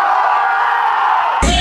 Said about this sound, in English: I start listening to the crowd yelling,